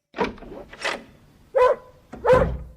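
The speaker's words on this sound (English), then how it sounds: "He's growling at Jack." A dog growls and barks in short bursts within a narrated audiobook scene set in a dark shed in the evening, with four distinct rough vocal bursts spread across the moment and no talk over them.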